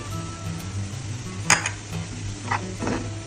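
Onion and tomato sizzle steadily in a pan while a utensil scrapes through them in a few short, quick strokes, with a low continuous hum underneath.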